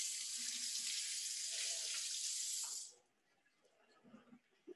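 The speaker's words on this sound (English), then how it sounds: "I'm going to rinse off my hands again really quickly." Tap water runs steadily into a kitchen sink during a hand rinse, a loud close hiss that cuts off sharply about three seconds in, followed by faint handling clatter.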